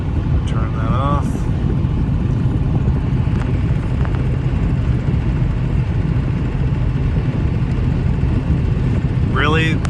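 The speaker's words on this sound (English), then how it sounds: "Really, wind noise isn't real bad on this truck." Cabin of a 2012 Chevrolet truck on the road, with a steady low road rumble and wind hiss that stays constant throughout, plus a faint voice briefly at the start and the end.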